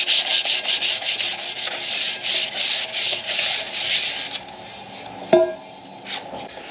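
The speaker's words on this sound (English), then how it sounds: "And you should have sanded off majority of the JB Weld." Close, rhythmic scratchy strokes of sandpaper worked over a Mercedes CL55 AMG wheel to take off JB Weld, steady back-and-forth rubbing that stops, followed by a sharp knock and a few quieter scrapes.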